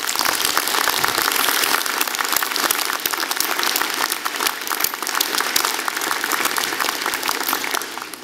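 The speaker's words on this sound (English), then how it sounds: "I'd like to ask for a round of applause for the incredible generosity of our students" Dense, sustained applause from a large convocation audience at an applied science graduation ceremony, steady clapping filling the hall throughout without a break.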